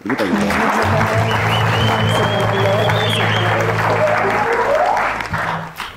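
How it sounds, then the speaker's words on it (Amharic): Audience applause at an Ethiopian music awards event, loud and sustained clapping from a large crowd that fills nearly the whole stretch before tapering off at the end, with a low musical tone underneath. "የኔም ተመልካቾች ያው ጭብጨባ ይሸልሙሻል።"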